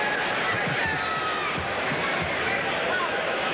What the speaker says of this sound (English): Many here in the crowd are making their way out.